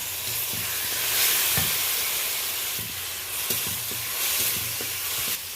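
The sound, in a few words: grated tomato frying with onion in pan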